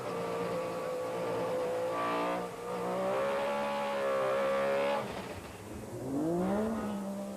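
Onboard a rally car at Knockhill during the 2001 Nations Cup Rally, the engine revs hard and climbs through gears, pitch rising and dropping between shifts as the car races flat out, with no talk heard.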